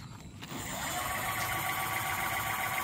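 A Selis Butterfly green electric bike motor spins up, a steady whining hum that rises within the first half second and holds, close and fairly quiet, with no talk over it.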